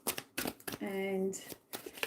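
A deck of cards is shuffled during a live psychic reading, brief riffling bursts alternating with someone talking nearby.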